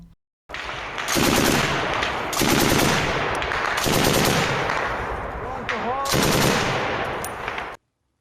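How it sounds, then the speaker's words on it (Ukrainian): Loud bursts of rapid gunfire from National Guard soldiers, several volleys in a row, with a brief shout heard between them. "Постріл!"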